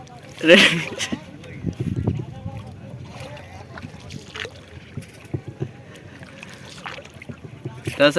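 A small boat travels on the Chitra River in Bangladesh, with a low continuous rumble, soft water sounds and wind buffeting the microphone, while people talk in the background throughout.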